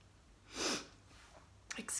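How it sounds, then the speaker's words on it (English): A person with a runny nose sniffs a couple of times, faint and close, short breathy snuffles in a quiet room. "Excuse the sniffing, guys."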